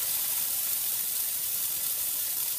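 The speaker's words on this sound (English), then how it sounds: "you got yourself some sizzle action" Soft, steady sizzling hiss of pancake batter frying in a hot pan, continuous and fairly quiet, with nothing else audible.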